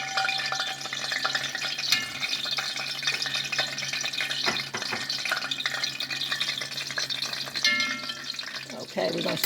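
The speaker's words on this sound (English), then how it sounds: "You want it to just sizzle when it hit the oil." Corn on the cob deep frying in hot oil, a steady, close crackling sizzle that holds at even loudness throughout with brief pops and spatters, no voices over it.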